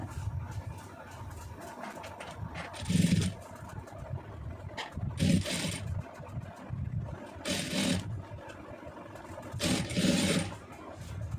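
A sewing machine stitches blouse fabric in several short, even bursts spaced a few seconds apart, with a low steady room hum filling the gaps.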